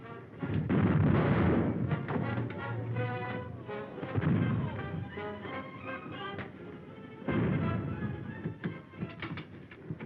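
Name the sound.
warship cannon broadside firing, film sound effect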